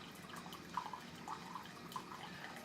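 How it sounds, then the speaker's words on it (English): A Keurig Mini Plus single-serve coffee maker brews with soft gurgling, dripping and trickling of hot water into a cup, a few small plops over a steady quiet hiss, no voices. "The coffee is making."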